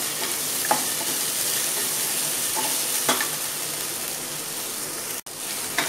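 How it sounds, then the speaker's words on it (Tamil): Vegetables for a vegetable kuruma sauté in a hot pan, a steady close sizzle and frying hiss with occasional soft stirring clicks, heard alone without voices. "நல்லா வதக்கிட்டு கொஞ்சமாக உப்பு போட்டுடலாம்."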